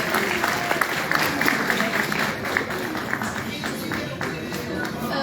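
An audience at an event claps for a speaker in dense, sustained applause that fills the space evenly, with crowd voices murmuring underneath.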